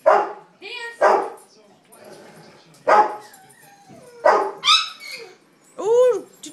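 Several dogs bark in sharp bursts at close range during play over a gate, with yips and a whimpering whine near the end, amid people talking and cheering.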